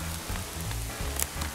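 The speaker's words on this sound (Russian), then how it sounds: "Как вы видите, даже в ельнике дождь, зараза, пробивается." Rain falling through a spruce forest, a soft steady patter and hiss with faint drops, low and fairly quiet with no talking.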